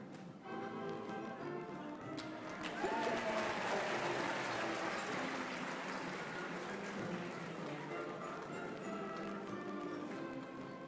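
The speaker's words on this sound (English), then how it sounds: "Let's give them a round of applause." An audience applauds at a vice-chancellor investiture at KNUST, a moderately distant wash of clapping that swells after a few seconds and holds steady, with background music and murmuring voices beneath it.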